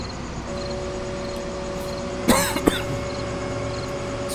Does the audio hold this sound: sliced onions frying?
no